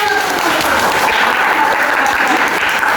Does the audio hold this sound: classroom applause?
yes